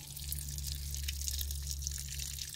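Old, blackened coolant drains from the radiator of a Mercedes W202, making a steady, close splashing trickle of liquid that runs on without a break. A low hum sits underneath, and no one speaks.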